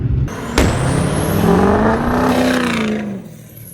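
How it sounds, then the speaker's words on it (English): A loud mechanical hiss with a rising, sustained whine close by from a hydro boost brake booster on a Ford Super Duty truck, steady for a few seconds before fading out, with no voices. "We're gonna go for a hydro boost right now. You can hear it hissing and whining"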